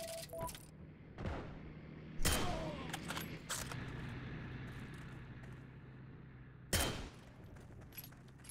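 Gunfire in the World War II shooter game Heroes & Generals: a few sharp, loud shots crack out several seconds apart over a low, steady rumble of battle noise.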